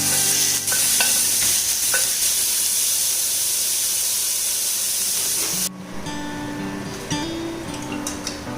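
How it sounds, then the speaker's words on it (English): Chicken keema stirred and fried with garlic in a pan for fried rice, a close, steady sizzle with scraping spoon strokes, then an abrupt drop to a softer, quieter hiss with occasional clinks. "just stir it till it's fried."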